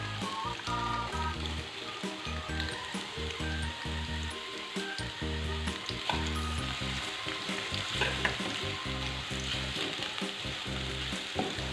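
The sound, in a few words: frying shallots, garlic and carrots in hot oil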